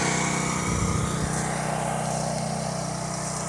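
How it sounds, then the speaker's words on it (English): A portable generator drones steadily nearby during a post-hurricane power outage in Florida, a constant buzzing engine hum that fills the short clip without pause. "Sorry for the noise of the generator"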